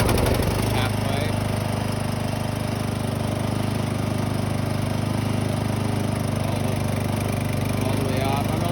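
Cub Cadet 2X 26-inch two-stage snow blower with its engine running steadily after a pull start, a loud continuous mid-pitched drone with no pauses, close by.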